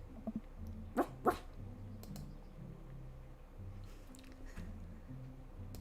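A small dog in the dating game Dream Daddy gives two quick, bright barks, faint under steady keyboard typing and low background music.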